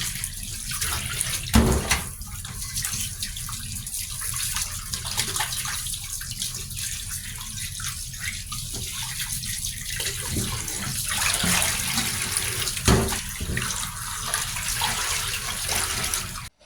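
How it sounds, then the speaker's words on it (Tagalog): Milkfish is washed under a running tap, the water pouring steadily for a long stretch with splashing, sloshing and occasional knocks as the fish is rinsed in a sink. "Hugasan lang natin ng maigi yung isda hanggang sa luminaw na yung tubig."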